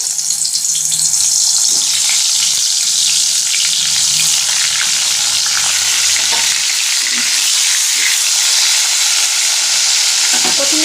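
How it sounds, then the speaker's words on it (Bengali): Small brinjals frying in hot oil with salt and turmeric, a loud, dense, continuous sizzle with occasional stirring, close up and without talk. "এটাকে ফ্রাই করব তেল গরম হয়ে গেছে এখন বেগুনের মধ্যে দিয়ে দেবো"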